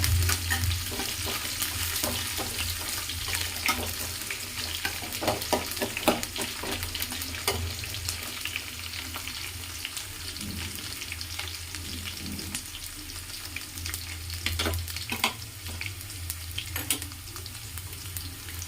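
Garlic and onion sauté in a pan for a homestyle fish pulusu. A constant close sizzle is dotted with frequent clicks and scrapes from stirring over a low hum, and no one speaks.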